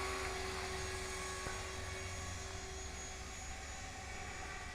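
An HK-450GT radio-controlled model helicopter, rebuilt after a crash, flies nearby with a steady, loud rotor and motor whine holding at a constant level throughout, with no talk.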